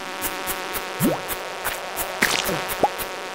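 Buzzing insect sounds from mosquito enemies in the farming video game Stardew Valley, a steady droning hum over rhythmic background game music, with short rising chirps and effects cutting in.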